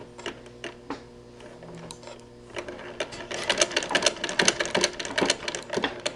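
A somewhat noisy sewing machine stitching capri pants, close by, starts with sparse single stitch clicks and then runs into a faster, louder, dense rattling burst of stitching.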